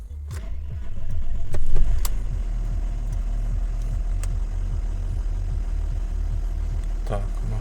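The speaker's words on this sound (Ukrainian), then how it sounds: "машинка завелась" A small Audi car engine turns over and settles into a steady, rhythmic idle, with a few clicks and a brief louder rev near the start.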